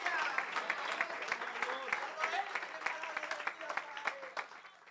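Church congregation applauding in a steady wash of clapping throughout, with voices sounding over the clapping.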